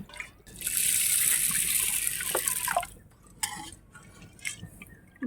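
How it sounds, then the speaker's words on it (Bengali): Water poured into a cooking pan set on a lit stove for a Bengali water spinach dish, a bright rushing trickle for a couple of seconds followed by faint drips and light clinks of the pan. "এবার পরিমাণ মতন জল দিয়ে দিচ্ছি"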